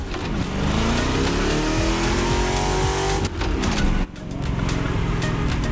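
Dodge Charger engine revving hard in the TC Motorfest racing game during a slalom, a loud sustained roar with rising and falling pitch sweeps, a brief drop near the end and then building again, no talk.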